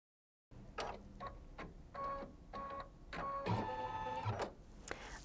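An embroidery machine stitches a tack-down line for bunny ears on quilt fabric, making rapid rhythmic mechanical ticking and whirring in short bursts, close and quiet.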